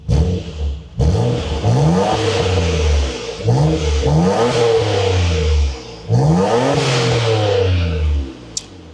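Nissan R34 GT-R with an HKS titanium exhaust revving repeatedly, close and loud, each rising surge of engine note falling back between blips over roughly nine seconds, no voices.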